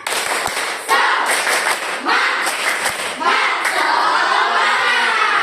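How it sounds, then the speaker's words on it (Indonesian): Students in a classroom perform the tepuk semangat cheer, clapping in loud rhythmic bursts with shouting voices, a teacher speaking between the rounds. "Tepuk semangat. Yang keras ya Reza ya"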